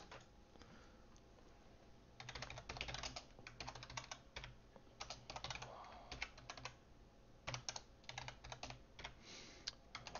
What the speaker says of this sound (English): start typing some code here